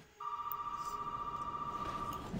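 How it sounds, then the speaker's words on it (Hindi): A telephone rings in Resident Evil 7, one long steady electronic tone sustained for about two seconds, fairly quiet and alone in a still room with faint game ambience. "फोन आ रहा है"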